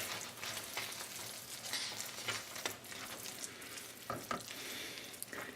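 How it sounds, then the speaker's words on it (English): Food being mixed with a small rubber spatula, a steady frying-like sizzle with soft scraping strokes and occasional sharper taps against the bowl or pan, close and continuous throughout without talk. "I'm just going to get my little rubber spatula, and I'll mix it all in"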